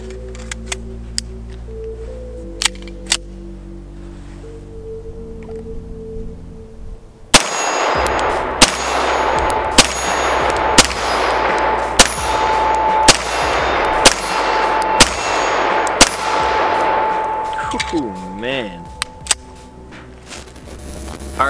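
Gunshots from a Dan Wesson Specialist 1911 pistol at a range: after a quiet stretch, about nine loud, sharp shots ring out at a steady, unhurried pace, each followed by a ringing echo.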